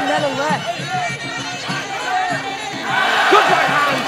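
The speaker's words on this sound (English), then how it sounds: "Crowd appreciating this action here in the second round." Crowd roars at a Thai Fight muay thai bout in Phuket during the second round, a steady mass of voices that swells louder near the end beneath an excited commentator's voice.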